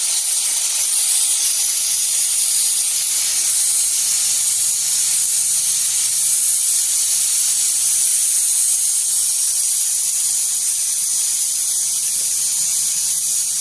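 A spray paint gun connected to an air line hisses continuously at 35 psi, a loud, steady, close rush of air holding unchanged for the whole stretch without any voices.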